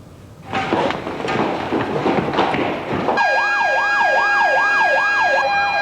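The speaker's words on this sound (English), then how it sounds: "The sound of sirens sometimes interrupts the serenity of a lazy weekend at KPC." A wailing siren at an Indonesian coal mining project in Sangatta rises and falls in a steady cycle, loud and near, after a stretch of rumbling noise with sharp bursts.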